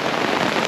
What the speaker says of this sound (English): this is officially the largest hail we've ever had our stuff set up in